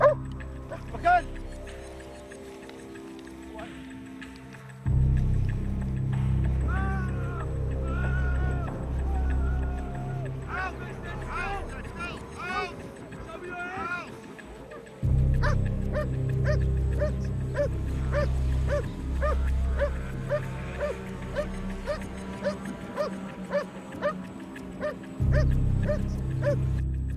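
A police canine unit dog at a private game reserve in South Africa barks and whimpers in bursts over a loud, low rumble, with someone shouting commands at times and other voices nearby.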